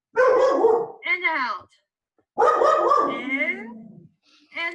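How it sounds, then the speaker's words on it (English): A dog barks in loud, close bursts, two long rounds of barking with brief yips between, while a person speaks calmly in short phrases. "Sorry for the dog."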